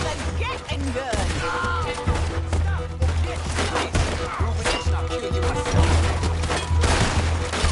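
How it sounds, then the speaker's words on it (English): A Gatling gun in the video game Red Dead Redemption 2 fires sustained rapid volleys with thuds and crashes, mixed with voices and a musical score. "That boy's gonna get on the Gatling gun."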